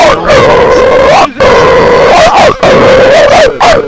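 A person imitates a dog barking into a microphone, making loud, drawn-out howling barks in several bursts, close and harsh.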